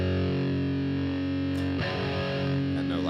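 An electric guitar with the gain turned all the way up rings out as one heavily distorted, sustained chord, then a fresh strum cuts in near the two-second mark and keeps droning loud and dense to the end.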